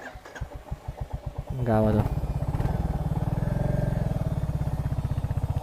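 A motorcycle engine putters with a steady, rapid rhythm as it rides through a village, its sound rising after a brief rev and staying close and loud. Someone speaks over it briefly.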